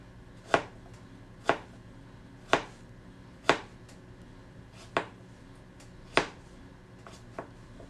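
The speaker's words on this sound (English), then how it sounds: "Now cut the zucchini the same way" Knife chopping zucchini on a cutting board, about seven sharp, distinct cuts spaced roughly a second apart, close and crisp over quiet background, no talking.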